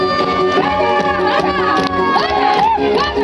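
Festival crowd at a village feast shouts and cheers together, loud and continuous, with voices rising and falling over a steady roar and some sliding yells standing out.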